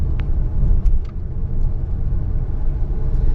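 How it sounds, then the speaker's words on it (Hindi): A car drives through an underpass with a loud, steady low road rumble and engine drone from inside the cabin, with no voices. "ये हम अंडरपास से गुजर रहे हैं"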